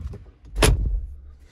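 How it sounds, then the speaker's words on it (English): The door of a Brabus G700 Widestar G-Wagon shuts with a single solid, deep thud heard from inside the cabin, followed by a brief low rumble as it settles. "So now we are inside the G Brabus with the beautiful door sound."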